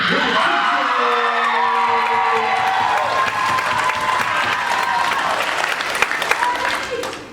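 A graduation crowd applauds and cheers for a graduate at a luau, dense loud clapping with whoops and yells throughout, voices shouting over it.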